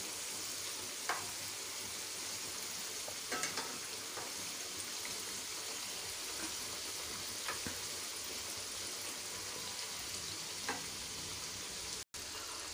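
Snack batter frying in hot oil in a home kitchen gives a faint, steady sizzle and bubbling hiss throughout, broken by a few soft clinks and scrapes as the pieces are flipped.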